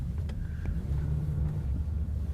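A 2014 Kia K7 2.4 Prestige sedan on a test-drive lap, heard from inside as a steady, close, low engine and road rumble with faint wind noise and no talking.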